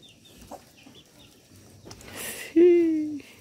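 A chicken gives a short clucking call followed by a louder, drawn-out squawk near the end, close by, with faint background noise and no talk.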